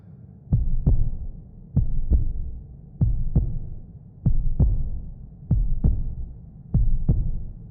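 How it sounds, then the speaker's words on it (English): Heartbeat in an immersive ASMR recording: steady, loud double thumps repeating about once a second with a low throbbing hum between beats, close and alone with no speech. "Notice how your heartbeat synchronizes with the rhythm?"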